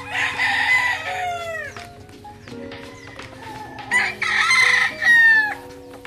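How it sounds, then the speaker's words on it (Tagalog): A rooster crows loudly and close by twice, long drawn-out calls separated by softer clucking and farmyard noise. "Yan, manok rin ni Airpat."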